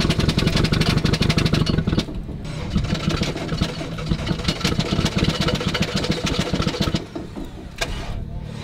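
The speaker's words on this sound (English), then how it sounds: "I think it's missing a cylinder." A racing engine, apparently already down several cylinders, runs rough and uneven at close range, its loud chugging rhythm broken by stumbles and brief dips, with no talk over it.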